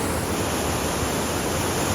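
Water pours down from above at Mahuli fort, a steady, loud, broadband rush with no break and no voices.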